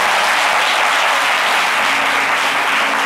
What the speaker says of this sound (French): Merci d'applaudir très fort le couple.